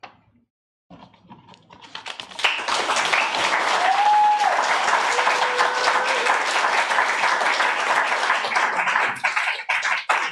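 After a poetry reading, an audience breaks into applause that swells from a short hush into loud, dense clapping and holds steady. A couple of brief whistles or cheers ring out within it.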